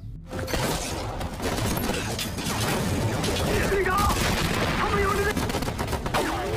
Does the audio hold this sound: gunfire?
yes